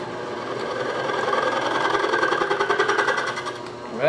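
A metal lathe cuts and cleans up the back surface of a rolling mill part in a home shop, giving a steady machining whine with rising rhythmic chatter and a brief sharper scrape at the end.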